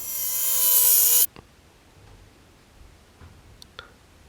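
A power tool cuts fiberglass for a custom roof fan adapter with a loud, high whine that stops abruptly after about a second, followed by quiet handling clicks and faint scraping.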